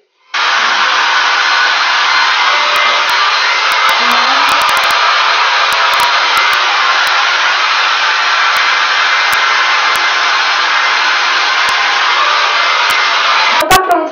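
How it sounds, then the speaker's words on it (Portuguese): A hair dryer blows on bangs, switching on abruptly and then roaring in a loud, steady, close airy whoosh for about thirteen seconds, broken by small clicks and bumps of handling near the end. "Na franja, gente, eu vou passar o secador."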